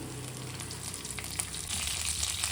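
Curry leaves crackle in hot oil for a carrot palya, a soft, continuous sizzle that rises a little louder toward the end.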